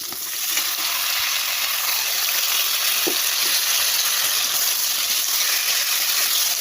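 Potato and radish pieces fry in oil in a pan, producing a steady, dense hiss of sizzling with one brief stir or clink partway through, close and continuous.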